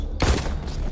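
Gunfire from a zombie-shooting VR game, The Walking Dead: Onslaught, bursts out as one loud, booming shot that rings and decays over the following second.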